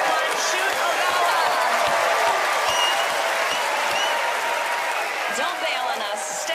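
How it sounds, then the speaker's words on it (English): A studio audience on a magic competition show gives loud, sustained applause with crowd cheering for a magician, dense clapping throughout with a voice speaking over it. "Let's give them another round of applause, everyone."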